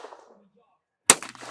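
A single sharp Browning shotgun blast at a clay target shootoff, loud and close, ringing out after a quiet stretch with faint background murmur before it.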